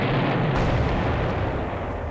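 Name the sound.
ship attack in video game Civilization II: Test of Time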